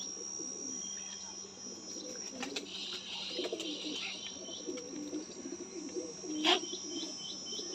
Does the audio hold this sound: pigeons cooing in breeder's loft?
yes